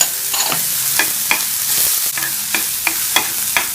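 Curry leaves and green chillies sizzle in hot oil for spicy millet dumplings: a steady bright frying hiss broken by repeated sharp stirring scrapes at a quick, irregular pace, close and loud.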